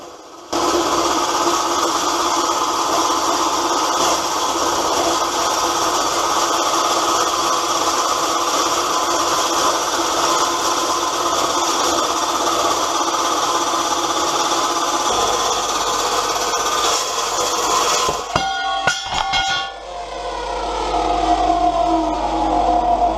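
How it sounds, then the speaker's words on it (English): Dry cut saw cutting 50 by 50 by 6 mm mild steel angle in a workshop, a loud, steady metallic whine held for about fifteen seconds, then a few sharp clanks as the cut finishes and the blade spins down. "I am making the wheel frame out of 50 by 50 by 6mm or 2 inch by 2 inch by 1/4 inch mild steel angle, which I am cutting to size using my dry cut saw"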